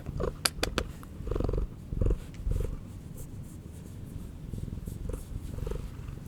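A cat purrs close by in a steady rhythmic rumble, broken by a few short sharp knocks and scratchy handling noises early on, with no talking.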